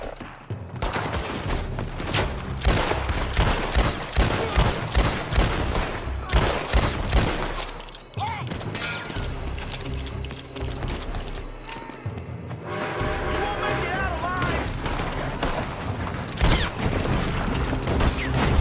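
Gunfire from a building in Red Dead Redemption 2, dense rapid volleys of shots and bursts in a chaotic in-game firefight, loud and continuous with brief pauses.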